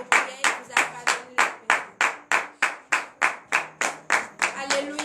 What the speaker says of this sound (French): levez-vous et donnez de vives acclamations à l'Éternel